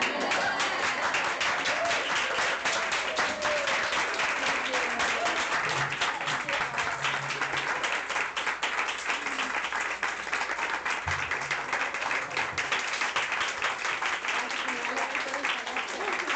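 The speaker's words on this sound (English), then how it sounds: "Should we stand and clap?" An audience claps steadily and densely throughout, closing a translator's public conversation at a Los Angeles literary event, with faint voices murmuring beneath the sustained applause.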